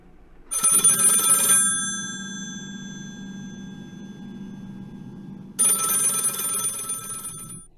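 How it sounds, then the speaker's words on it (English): An old-time radio drama telephone bell rings in two loud bursts, a long metallic ring at the start and another near the end. A lingering resonant hum fills the gap between them. No one speaks. "you answer the phone"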